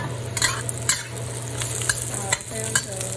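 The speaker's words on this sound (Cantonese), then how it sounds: "跟住放啲臘肉、臘腸啦，" Chinese preserved pork and sausage stir-fried in a wok with ginger and garlic for Chinese broccoli, giving a steady close sizzle broken by several sharp scrapes and clatters of the stirring utensil.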